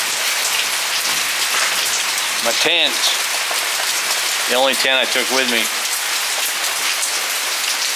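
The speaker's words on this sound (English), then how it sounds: "I'm gonna let it get rained on." Steady, dense rain patters on surfaces outdoors near a tent, a loud continuous hiss throughout, with someone talking over it in the middle.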